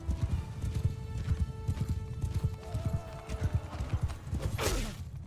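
Horse hooves clip-clop in a rapid gallop in the medieval battle game Bannerlord, with a whinny near the end, close and steady over combat noise.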